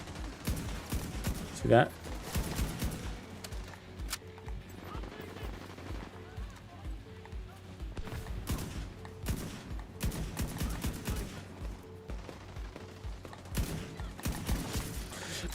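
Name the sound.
turret firing in The Division 2 video game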